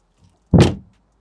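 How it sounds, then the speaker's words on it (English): A single heavy thud as the door of a 2021 Volkswagen ID.4 slams shut, loud and close, with a short dull decay and nothing else around it. "the massive thud that they make when they shut"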